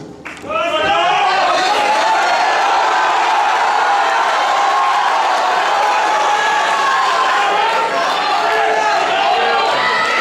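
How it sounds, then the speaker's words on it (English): A large crowd at a boys' school final awards ceremony cheers and whoops loudly for their favorite school, a sustained roar that swells after a brief quiet start and holds steady. "I'm giving you one more time to cheer for your favorite school"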